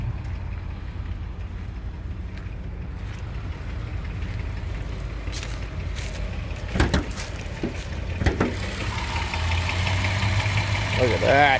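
A 2009 Dodge Grand Caravan's 3.3-liter V6 idles steadily with a light, normal timing chatter, carrying a low continuous hum, while a few sharper clicks and handling noises come through near the end.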